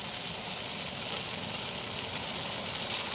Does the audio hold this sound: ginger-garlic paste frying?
yes